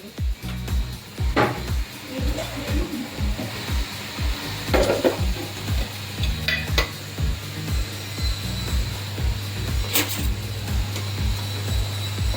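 Gujarati lapsi is stirred in a pan with ghee, a spoon scraping and clinking against the metal in a brisk, regular rhythm, with a faint sizzle underneath.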